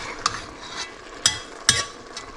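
A spoon stirs wild turkey chili in a hot pot, with a few sharp scraping strokes over a low, steady sizzle, close up and with no talk.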